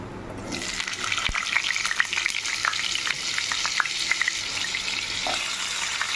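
Potatoes dropped into hot oil set off a loud, steady sizzle about half a second in, with dense crackling and occasional sharp pops continuing close up without talk.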